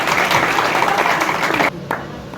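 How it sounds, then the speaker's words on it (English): An audience applauds at an institute ceremony, a dense burst of clapping that runs loud and steady for a moment, then drops off abruptly and trails into a few scattered claps. "Let us take a moment to applaud their dedication."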